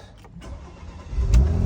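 A Porsche Macan S engine cranks briefly and fires up smoothly, close by, the idle settling into a steady low rumble.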